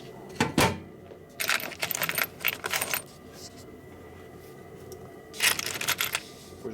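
Metal screws clatter and jingle in bursts as a hand rummages through them on a workbench during a rebuild of a 1989 FXR S&S stroker motor, with quiet pauses between the rattles.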